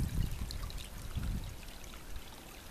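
Fresh water trickles from a small spring hole about a foot deep beside a trail near Compton Peak, a soft steady wash with a few low gurgling pulses close by.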